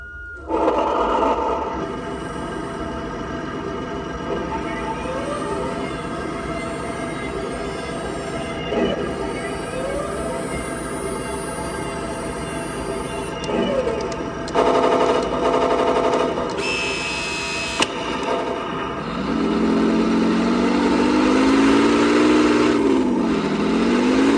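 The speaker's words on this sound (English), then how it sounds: "So let's get it fired up." A Heng Long 1/16-scale Soviet T-34 upgrade edition RC tank starts up, giving a steady simulated engine drone with machine-gun-like rattles and electronic tones that runs close and fairly loud throughout.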